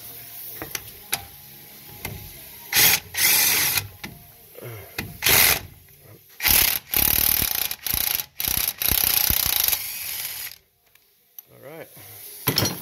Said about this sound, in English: Go ahead and put your socket back up on there.